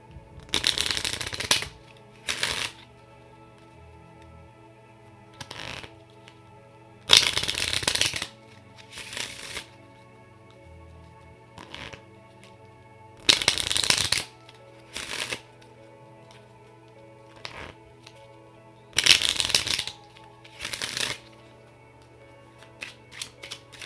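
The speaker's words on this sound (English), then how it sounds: "So we will go to the playing cards." Playing cards shuffled close up during a tarot reading: six or seven loud, crisp riffling bursts, each lasting one to two seconds, separated by quiet pauses with faint taps and card handling between them.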